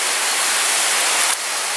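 Çaylak Waterfall roars as a steady, loud broadband rush of falling water, heard close, with a slight drop in level near the end and no voices.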